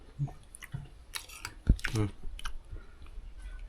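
Close, crunchy chewing with crisp bites and clicks, irregular and loud near the mouth, over quiet background noise.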